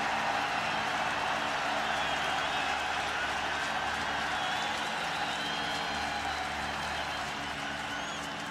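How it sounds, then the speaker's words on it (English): Continuous crowd noise from a packed stadium at a 2011 NCAA college lacrosse championship game between Virginia and Maryland, a steady roar of cheering and clapping with no pauses, fairly loud and filling the whole stretch. "the crowd's trying to help keep that momentum going"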